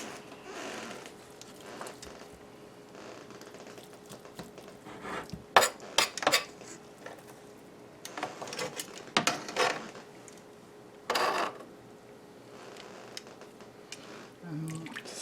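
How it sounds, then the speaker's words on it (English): Ham being trimmed off the bone and the meat dropped back into a slow cooker pot, with scattered clinks and scrapes of utensil against metal and a few louder knocks amid quiet stretches. "Just trimming the ham off the bone here and returning the meat to the pot."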